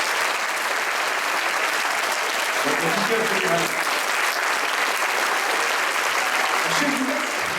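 Steady, dense applause from a congregation fills a church at a Pentecost gathering, continuous and loud throughout, with someone briefly speaking over it.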